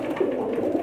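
Breeder pigeons in a loft coo steadily in a low, close, continuous murmur, the soft calls overlapping without pause.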